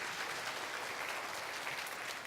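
A church congregation claps in a faint, brief burst of even, continuous applause during a Sunday worship service.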